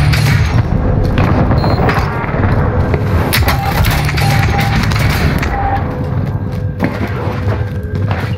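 Airstrike explosions in the Warzone video game, a dense, loud barrage of booming blasts and thuds rolling one after another with constant rumble and scattered sharper cracks.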